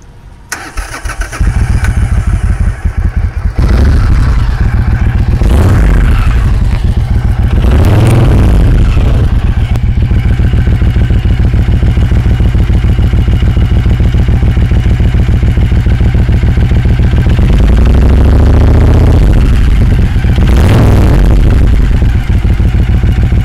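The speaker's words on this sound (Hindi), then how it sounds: "तो दोस्तों आइए सुनते हैं इसका एग्जॉस्ट।" A Triumph Thunderbird Storm 1700 cc cruiser motorcycle engine starts and idles with a deep, loud exhaust rumble, revved sharply several times before settling back to idle.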